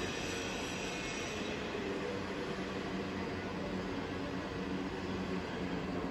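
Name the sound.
SIP Hydroptic 6 jig boring machine spindle running at 40 rpm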